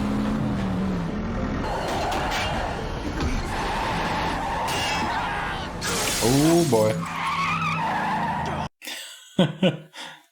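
Car chase in the TV series Supernatural: engines roar and tires skid and squeal in rising sweeps, glass shatters loudly, and the scene ends in a few sharp impacts. A person talks briefly over the action.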